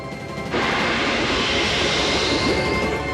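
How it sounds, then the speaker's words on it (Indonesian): A heavy engine roars up abruptly after a quiet half-second, then drones on loud and steady in an animated adventure scene aboard a vessel under torpedo attack, with no talking. "Mesin sialan."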